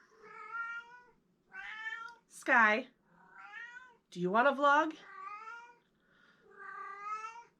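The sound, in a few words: domestic cat meowing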